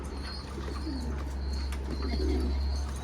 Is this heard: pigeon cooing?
yes